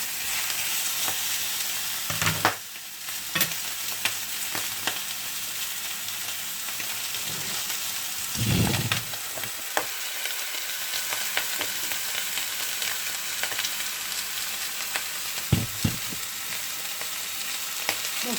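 A veal chop fries in a hot pan, giving a steady close sizzle with occasional louder crackles and brief bumps of the pan, and no talking over it.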